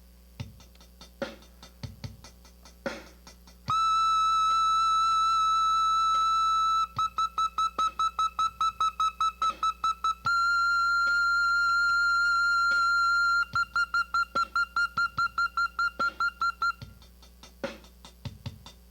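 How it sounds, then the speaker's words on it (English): A saxophone plays sustained very high notes, alternating long held tones with quick repeated tongued bursts, clear and close with brief clicks between phrases. "So the very top of the horn would sound like this."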